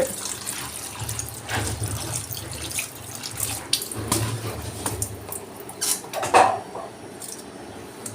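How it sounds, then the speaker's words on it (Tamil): Silver anklets are rinsed in plain water at a running tap, with a continuous splash and trickle into a sink and a few clinks and squeaks of handling, fairly quiet with no speech. "பச்சை தண்ணியில் கழுவி எடுத்துக்கோங்க"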